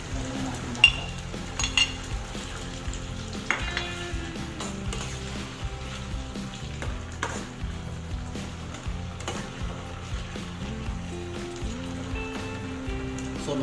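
Onion, tomato and chili cooking in a pan, a soft steady sizzle with occasional clinks and scrapes of a utensil stirring, close and fairly quiet with no voices.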